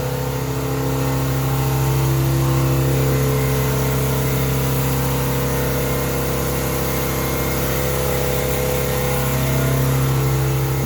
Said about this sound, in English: '56 Chevy 3200 pickup truck.